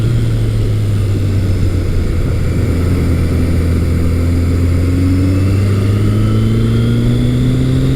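Vintage Kawasaki KZ1000 motorcycle with shaft drive, engine droning steadily while riding on a back road, a loud continuous hum with slowly rising pitch as it pulls along.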